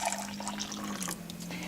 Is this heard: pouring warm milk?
yes